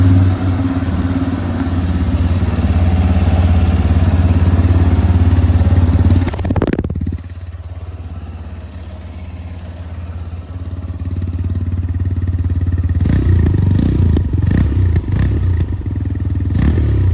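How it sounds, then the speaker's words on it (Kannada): A 2026 TVS Raider 125 motorcycle idles loudly and close with a steady exhaust burble. Its engine note drops sharply after a few seconds, then swells again with a clattering revved blip near the end. "ಹಾಗೆ ಒಂದು ಬೈಕ್ ನ ಎಕ್ಸಾಸ್ಟ್ ನೋಟ್ ನ ನೋಡ್ಕೊಂಡು ಬರೋಣ ಬನ್ನಿ."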